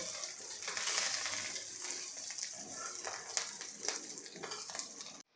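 Chickpea greens bhaji being stirred and sautéed in a pan over low flame, a close, steady crackling sizzle with rustling scrapes as the greens are tossed.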